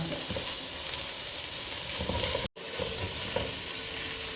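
Sliced onion and slit green chillies fry in a pan with salt for butter chicken, a steady close sizzle running throughout, broken by one brief dropout near the middle, with no voices.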